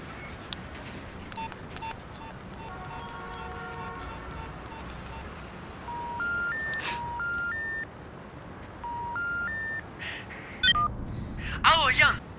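A mobile phone's keypad beeps out a series of short dialing tones in quick clusters, followed by sharper electronic chirps, over a low background hum, with voices present.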